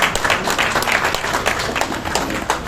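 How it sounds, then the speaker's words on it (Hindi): A room full of people breaks into loud, dense applause for a student at an Independence Day foundation ceremony, continuous clapping close by throughout. "इसके बाद सैयद सारा के लिए जोरदार ताली बजाइएगा।"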